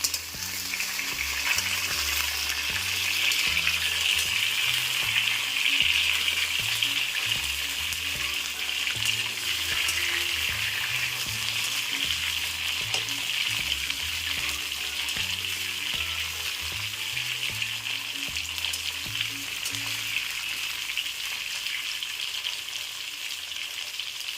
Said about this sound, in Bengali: এবার কাঁকরোলগুলোকে ভালো করে নেড়ে নিতে হবে।